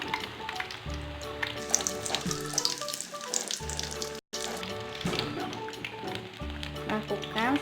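Tempeh fries in hot oil over medium heat for tempe penyet, giving a steady close sizzle with scattered pops and crackles. A short dropout breaks it midway, and music plays underneath.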